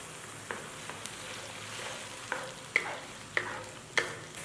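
Tofu stir-fried with oyster sauce, dark soy sauce and chili-garlic sauce gives a continuous, moderate sizzle punctuated by several sharp spatula clacks against the wok.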